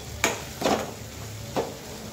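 Three quick scraping stirs of a spoon move through a curry as turmeric and coriander powder are mixed in before drumsticks are added, with a faint sizzle beneath. The sounds are close and short, with no talking.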